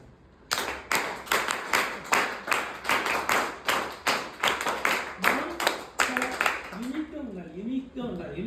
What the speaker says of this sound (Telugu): భారత్ నిర్మాణ్ క్లాప్స్.